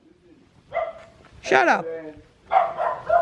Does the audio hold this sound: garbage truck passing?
no